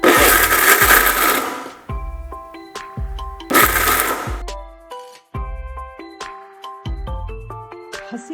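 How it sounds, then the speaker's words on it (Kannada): A mixer grinder coarsely grinds almonds and then peanuts, roaring loudly in two long bursts with shorter pulses and rattling stops between them. "ಮೊದಲಿಗೆ ಬಾದಾಮಿ ಆಮೇಲೆ ಕಡಲೆಕಾಯಿ ಬೀಜ ಎರಡನ್ನು ತರಿಯಾಗಿ ಮಿಕ್ಸ್"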